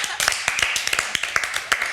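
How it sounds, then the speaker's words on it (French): Studio audience claps for a guest on a French talk show, a quick burst of sharp, fairly close claps with voices talking over them. "Donc, on peut l'applaudir."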